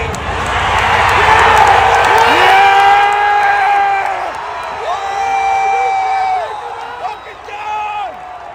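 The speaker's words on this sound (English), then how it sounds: "hear the way the crowd erupted when Donald Trump stood up and reassured the crowd that he was okay and told them to fight" A large outdoor political rally crowd for Donald Trump roars and cheers continuously, with sustained loud chanting and whooping swelling in waves over several seconds, dense and distant-sounding like a stadium.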